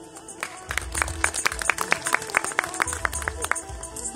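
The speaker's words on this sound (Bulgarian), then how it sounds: "А сега вашите аплодисменти за госпожа Димитричка Мирчева специално." An audience at the opening of a crafts and arts centre in Ignatievo applauds a speaker: scattered, crisp individual claps from a modest crowd, irregular and fairly close, over a low background rumble.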